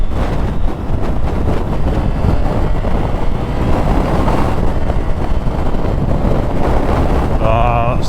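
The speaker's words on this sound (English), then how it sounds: "wind." Heavy wind buffeting roars steadily around a rider on a 2023 Triumph Tiger 900 motorcycle, loud and continuous with engine rumble beneath, and a voice talks over it.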